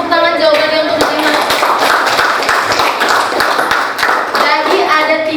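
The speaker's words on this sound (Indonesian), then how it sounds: "Tepuk tangan jawabannya untuk Mahima." Classroom applause rings out for a student's correct answer, a dense run of many hands clapping steadily and fairly loud for about five seconds, with voices speaking faintly through it.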